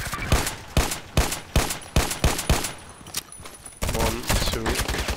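A TT pistol fires in the shooter game Contract Wars: about eight sharp, punchy shots in a quick, regular rhythm, close and loud, followed by someone talking over the game audio.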